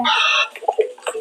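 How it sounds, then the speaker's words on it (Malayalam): A short, bright electronic chicken cluck from the game Scary Teacher opens, followed by a few quick choppy squawks, loud and close, all within about a second. "കോഴിയുടെ ശബ്ദം"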